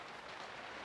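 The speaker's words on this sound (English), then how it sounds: "Pouring it down with rain now, I don't know if you can hear that." Heavy rain pours down outdoors beside a BMW GS1150 motorcycle, a steady soft wash of hiss with no distinct drops, faint and continuous, with no voices.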